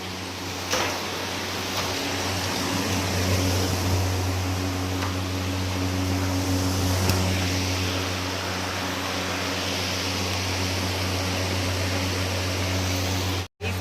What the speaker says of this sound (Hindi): तो मैंने कूलर चला दिया है।